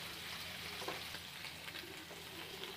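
Paneer cubes fry in hot oil in a pan for a butter paneer dish, giving a steady, close, dense sizzle with small crackles and stirring noises throughout and no talk.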